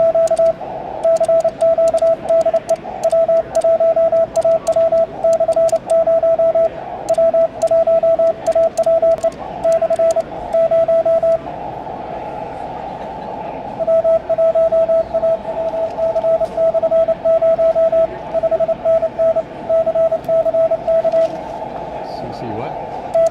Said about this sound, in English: We're going to work a little CW on 10 meters right now.